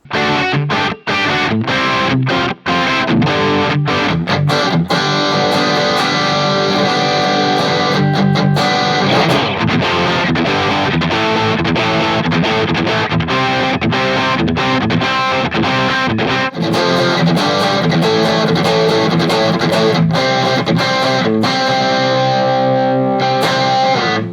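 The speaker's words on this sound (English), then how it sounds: "some nice chunky riffage" Heavily distorted electric guitar plays chunky palm-muted riffs through IK iLoud Micro Monitor speakers, loud and rhythmic with choppy stops and repeated chugging phrases throughout.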